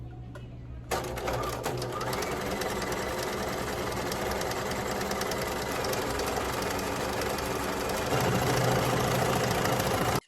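Sewing machine stitching down folded curtain fabric, a steady continuous whir that runs loud and unbroken for nearly the whole stretch, with a slight rise in intensity near the end.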